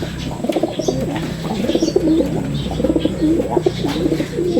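Racing pigeons in a loft cooing close by, with repeated low throaty coos overlapping, a few faint chirps, and occasional rustling of wings.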